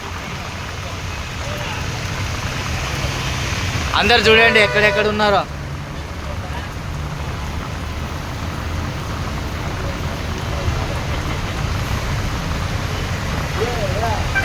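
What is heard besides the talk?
heavy rain falling in Tirupati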